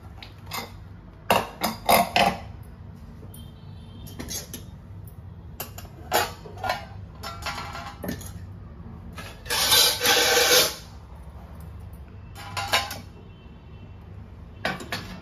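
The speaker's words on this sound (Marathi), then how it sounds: "आता आपण कुकर उघडून बघूया।" A pressure cooker of potato rice being opened: loud metallic clanks and clicks of the lid and pot in irregular bursts, with a brief hiss of released steam in the middle, all close up and without talk.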